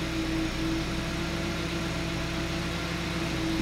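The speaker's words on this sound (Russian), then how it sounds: "Держит где-то 900 оборотов, обороты плавают. Пусть прогревается." A 2012 Hyundai Solaris engine idles around 900 rpm while warming up, with a steady low hum and faint vibration under a broad mechanical wash, close by with no voices.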